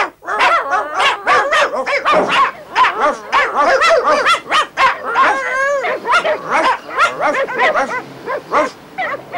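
Several dogs bark and yip excitedly close by, overlapping rapid barks with a few whimpers, continuous and loud.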